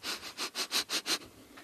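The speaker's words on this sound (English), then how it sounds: "I realized maybe they couldn't hear me sniffing" A person sniffs repeatedly and close up, about six or seven quick, even inhalations in a steady rhythm, then a brief quieter pause, with no talking.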